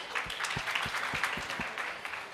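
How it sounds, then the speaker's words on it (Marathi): An award-ceremony audience applauds with steady, dense clapping that fills the hall at moderate distance, continuing evenly without speech. "पुन्हा एकदा जोरदार टाळ्या."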